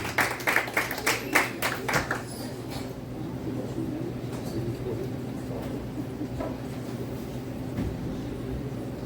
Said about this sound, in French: Donne-moi l'applaudissement pour Sylvie Côté.